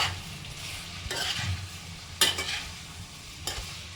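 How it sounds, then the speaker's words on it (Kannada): Pasta is tossed and stirred in a frying pan with garam masala, a soft steady sizzle broken by a few distinct scraping and clattering strokes of the utensil, close by and without talk. "ಪಾಸ್ತಾ ಹಾಕಿದ್ದೀನಿ, ಹಾಕಿ ಚೆನ್ನಾಗಿ ಹಿಂಗೆ ಅಲ್ಲಾಡಿಸ್ಕೋಬೇಕು."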